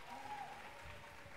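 Audience applause at the Sing, Love concert, a steady wash of clapping from the crowd with a faint tonal voice or instrument line briefly rising over it.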